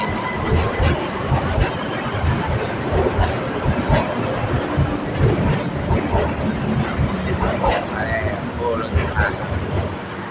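A BTS Silom Line skytrain pulls into Saphan Taksin station, rumbling and clattering close by with wheel clicks and faint squeals, as voices murmur in the background.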